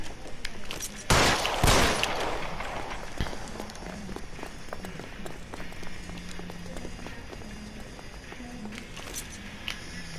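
Hurried running footsteps of fleeing suspects in L.A. Noire, rapid light thuds mixed with a sharp burst of gunfire early on, then scattered impacts and steps through ongoing game ambience.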